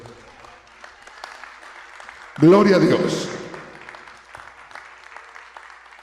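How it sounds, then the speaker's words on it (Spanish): A church congregation claps lightly and steadily in the background while a voice calls out loudly partway through, rising over the applause before fading back. "Dele un aplauso al Señor."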